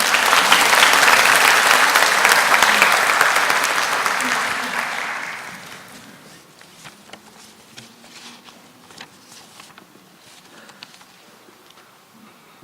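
A church congregation applauds to welcome a deacon forward to give his testimony during a Sunday service: loud, dense clapping for about five seconds that quickly dies away into a quiet room with scattered faint sounds.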